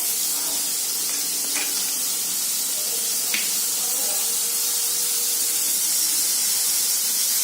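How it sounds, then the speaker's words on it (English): Ginger garlic paste fries in a hot pan for a veg grilled sandwich filling, a constant loud steamy hiss with a couple of faint utensil taps, no talking. "one teaspoon of ginger garlic paste. Fry about 30 seconds"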